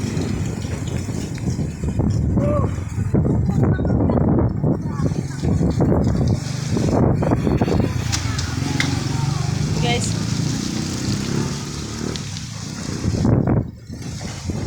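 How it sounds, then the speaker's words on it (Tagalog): Steady roaring gusts of strong wind ahead of an approaching typhoon, with leaves rustling and blowing about, continuous and loud, while people talk over it intermittently. "lakas ng hangin guys oh"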